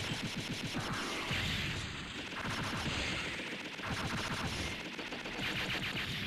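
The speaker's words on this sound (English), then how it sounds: "This is another good time to use your machine gun" A machine gun fires in the Megaman Legends video game, a dense rapid burst of shots that keeps going with short breaks, loud and continuous against a busy game soundscape.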